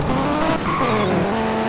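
A Dodge car in a racing video game revs its engine while the tires squeal and skid, a loud continuous whine with shifting pitch over a short burst, no voices.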